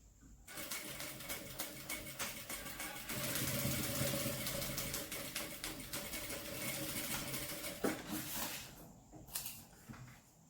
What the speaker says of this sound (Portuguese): A caixinha de leite estando reta, nós vamos fazer uma costura reta aqui.